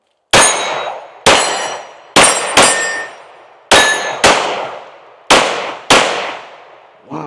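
Eight sharp pistol shots from a Kimber R7 Mako Carbon Compact, loud and close, fired at uneven intervals with two quick pairs, each crack followed by a short decaying ring.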